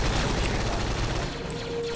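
Rapid blaster gunfire during a Star Wars Clone Wars roleplay video game battle against a droid, a dense continuous fusillade of shots filling the scene with low rumbling booms underneath.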